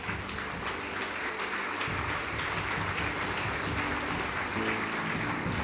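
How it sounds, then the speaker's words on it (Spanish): A church congregation applauds loudly and continuously for several seconds, a dense wash of clapping with murmured voices and some low background tones underneath. "¿Cuántos aplauden a Dios?"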